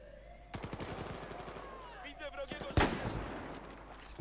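Battlefield 4 gunfire from an M98B sniper rifle: a sharp, loud crack stands out near the middle, with a burst of rapid shots before it, all underneath quiet commentary.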